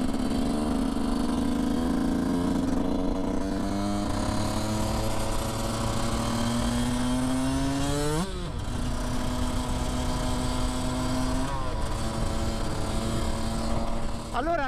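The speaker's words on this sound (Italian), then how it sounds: "questa moto fa un bordello allucinante, sentite qua" Yamaha YZ 125cc two-stroke motorcycle engine running loud and close, holding a steady buzzing idle, then revving with rising pitch and sharp throttle blips before settling back down.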